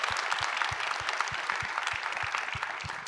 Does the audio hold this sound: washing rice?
no